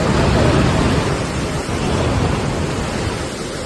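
Heavy rain roars steadily and loudly across the whole stretch during river flooding in Satara, Maharashtra, a dense broadband wash with possible thunder rumbling low underneath and no voices.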